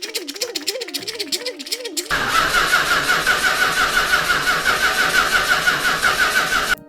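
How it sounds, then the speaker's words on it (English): A car engine cranks with a rhythmic whirring starter, then a loud continuous rumble takes over and holds steady, close by. "Your engine's cranking, but it's not starting."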